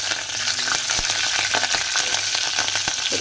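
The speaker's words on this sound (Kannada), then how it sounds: "ಒಂದೆರಡು ಒಣ ಮೆಣಸಿನ್ಕಾಯಿ ಹಾಕೊಳ್ಳೋಣ್ರಿ ಆಮೇಲೆ ಕಡೆ ಕರಿಬೇವಿನ ಸೊಪ್ಪು ಹಾಕೊಳ್ಳನ್ರಿ ಸಣ್ಣದ ಉಳ್ಳಾಗಡ್ಡಿ ಹಾಕೊಳ್ಳೋಣ್ರಿ" Dry red chillies, curry leaves and chopped onions sizzle and fry in hot oil in a pan, a steady close crackle with stirring clicks and no talking.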